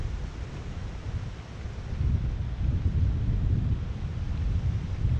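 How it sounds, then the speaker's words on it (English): Strong wind buffeting an outdoor microphone beside Baffle Creek on a fishing trip, a continuous low rumbling roar that swells louder partway through, with no speech. "that wind is getting really strong"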